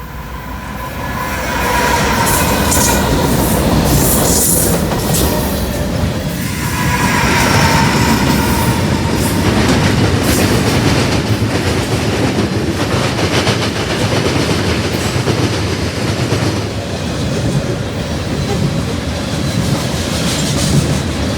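Freight train hauled by GE Evolution locomotives, a Tier 4 GEVO, a Tier 3 GEVO and an ES40DC, rumbles past loudly and continuously, with rattling, clacking wagons and occasional wheel squeal.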